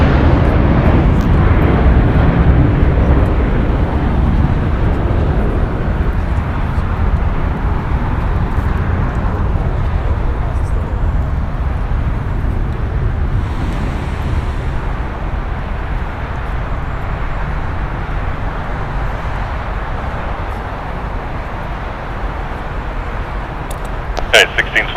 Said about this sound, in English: Departing here is JetBlue Airways for like 1874. Going to EWR. It's an Airbus A321.